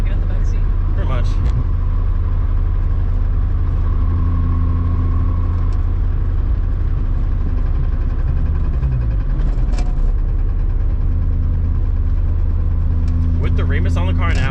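VW VR5 engine with a Remus exhaust while driving, heard from the cabin as a steady low drone with a slight rise and dip midway, and people talking over it at times.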